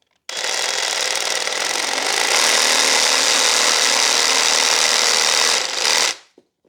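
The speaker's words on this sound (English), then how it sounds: "let's put the battery on and cut this bit off here, this big stub that's dead." A battery-powered cutting tool runs loud and close as it cuts away a large dead stub on a fig bonsai, a steady continuous whine for about six seconds before stopping abruptly.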